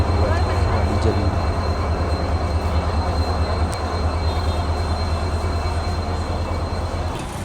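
A diesel locomotive engine rumbles loudly and steadily at close range, its deep throbbing drone unbroken throughout, with faint voices underneath.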